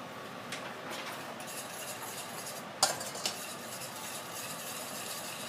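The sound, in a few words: tamarind sugar sauce simmering while stirred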